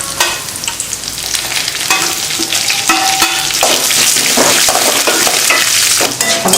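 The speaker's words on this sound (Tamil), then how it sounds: "மிளகாய், கருவேப்பிலை எல்லாம் வறுத்து வச்சு" Lentils, dried red chillies and curry leaves fry in hot oil with a loud, dense crackling sizzle and occasional stirring clinks, close and constant, no talking.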